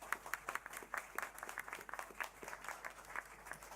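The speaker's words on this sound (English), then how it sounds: "Can I get a round of applause for Carme?" Scattered applause from a small audience at an election debate, fairly faint and uneven, with individual claps standing out across the whole stretch and no voices over it.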